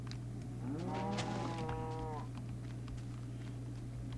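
A single drawn-out cow moo from a crafting video game, clear and fairly close, rising and holding for about a second and a half over a constant low electronic hum, then fading to quiet background.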